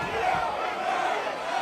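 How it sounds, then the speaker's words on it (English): Wrestling crowd at an MCW tag team championship match, a dense sustained roar of many voices shouting disapproval, steady and loud throughout the short burst. "crowd's telling him no"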